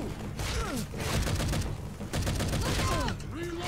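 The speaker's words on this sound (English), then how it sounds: "Sorry, I'm shooting you guys." Guns firing in the zombie shooter Left 4 Dead 2: dense, loud gunfire in rapid bursts runs almost continuously, with brief lulls and sweeping game effects mixed in.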